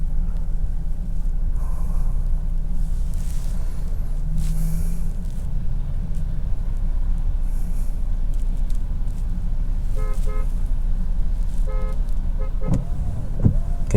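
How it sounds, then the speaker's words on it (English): A car horn honking somewhere in rainy traffic, heard from inside a Tesla: a few short, faint toots in separate bursts toward the end over a steady road and rain rumble. "someone's honking a horn"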